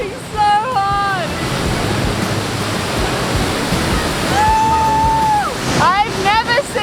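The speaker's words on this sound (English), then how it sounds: "I've never seen water fall so hard. That is so powerful." A powerful waterfall pours in remote wilderness during a sailing trip, a loud continuous roaring rush close by, with a person's excited voice and whistling rising over it at moments.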